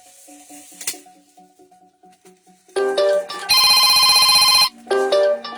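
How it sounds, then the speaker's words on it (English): A phone rings loudly in a room during an unboxing, after a quieter stretch of faint clatter and handling, with bursts of electronic ringtone that swell, hold for about a second and return, close and dominant. "Not answering that phone."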